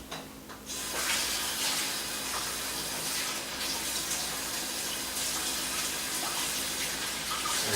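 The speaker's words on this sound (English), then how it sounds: "I'm going to rinse in cold water," Cold tap water gushes in a steady, close stream as a washcloth is rinsed beneath it during pizza dough making, running without pause from start to finish.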